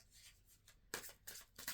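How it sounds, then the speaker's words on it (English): Oracle cards are shuffled in a few quick riffling bursts, close and soft, each a crisp papery flutter lasting a fraction of a second. "2 more shuffles."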